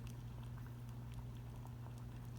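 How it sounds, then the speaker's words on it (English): Hot water bubbling inside a Vicks steam inhaler, a steady low simmering burble heard close up and continuous throughout, with no voices. "I'm sure y'all can hear the bubbling noises from the water"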